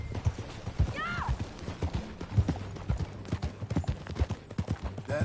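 Horse hooves clip-clop in a steady rhythm while riding in the video game Red Dead Redemption 2, close and moderately loud, with a brief whinny-like call early and faint voices in the background.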